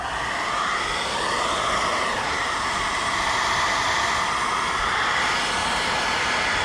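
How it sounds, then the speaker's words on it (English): A steady, loud whooshing hum of a hair dryer heating the glue on a Dodge Charger Hellcat badge runs continuously without pause, close by, with no talking. "first thing you want to do is use a hair dryer"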